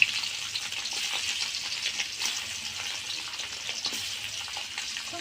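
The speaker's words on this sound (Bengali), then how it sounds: "দেখেন সবগুলো মাছ আমরা ভেজে নিচ্ছি।" Tengra fish sizzle steadily in hot oil, a dense, even crackle that runs unbroken at close range with no voices over it.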